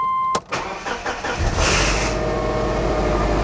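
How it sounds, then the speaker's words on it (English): A 2006 Subaru Outback engine starting after an oil change: a brief cranking burst, then the engine catches and settles into a loud, steady idle close by, with no talk. "I'm going to go ahead and start the car up."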